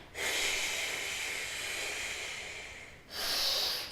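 Long hissing breath pushed out through the teeth during an energizing yoga practice, steady and close for about three seconds, then a brief pause and a second shorter hiss.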